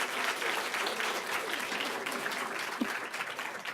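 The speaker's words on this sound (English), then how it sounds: "Let's have another round of applause for" Steady, dense applause from an audience after a talk at a 2018 legacy celebration event, a continuous wash of many hands clapping at even loudness.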